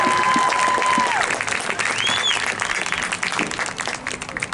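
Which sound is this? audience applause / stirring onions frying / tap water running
audience applause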